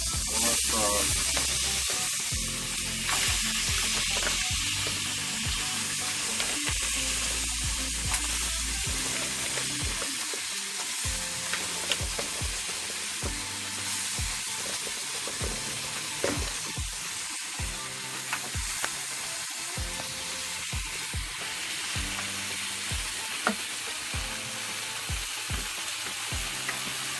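Crab frying in a pot for Jamaican curry crab, a steady loud sizzle and hiss throughout with scraping stir strokes and bumps as the pieces are moved around.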